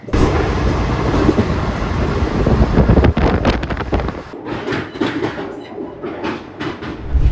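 Inside a passenger train crossing the Penna river near Nellore, a loud rumbling roar with wind buffeting carries on throughout, easing to rattling clacks and softer rolling noise toward the end.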